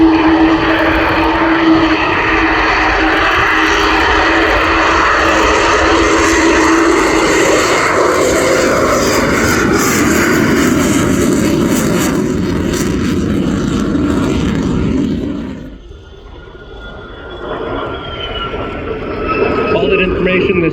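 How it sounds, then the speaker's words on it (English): Lockheed U-2S flying at the RIAT airshow, a loud sustained jet roar passing overhead that fades after about fifteen seconds into a quieter distant rumble, with commentary talking over it. "And here it goes, the incredible Lockheed"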